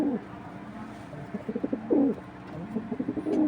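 A male breeding pigeon coos close by in repeated rolling, throaty phrases, with short pauses between calls.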